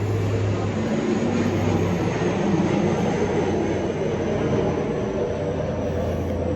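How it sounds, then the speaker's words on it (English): A military aircraft passing overhead, a loud continuous broadband roar that holds steady throughout with no talking. "there's a military aircraft going through here"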